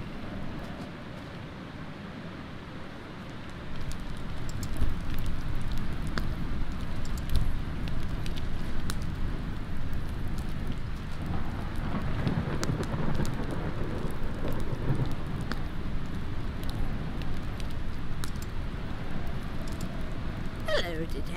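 Steady rain and thunderstorm in the video game Eastshade, a dense continuous hiss of rainfall with a low rumbling undertone that swells a few seconds in and stays constant.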